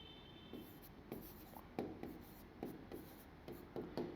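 Pen scratching across paper while working out a percentage math problem, a quiet series of short strokes and scribbles in an irregular rhythm, heard alone and close.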